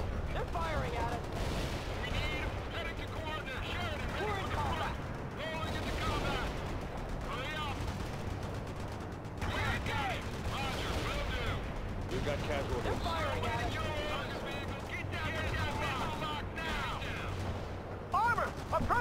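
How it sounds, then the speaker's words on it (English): Battle gunfire in the video game World in Conflict: Soviet Assault, continuous rattling shots and distant booms under a steady rumble, with radio-style voices talking over much of it. "They're firing at us."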